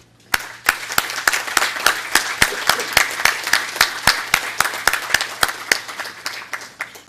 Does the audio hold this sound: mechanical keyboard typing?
no